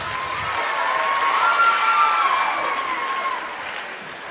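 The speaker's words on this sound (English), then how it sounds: "Give these guys a round of applause as they come up" An audience applauds as volunteers come up onto a stage, a sustained wash of clapping and some cheering at moderate distance, swelling slightly in the middle and easing off toward the end.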